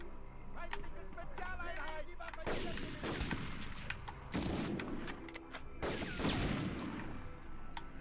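Gunfire and booming explosions from the Medal of Honor PS1 video game, bursts of shots and heavy thuds in irregular clusters, with someone talking over the action.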